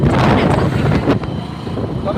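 Strong wind at a dam buffets the microphone in a steady, loud roar with low rumbling gusts that ease slightly toward the end.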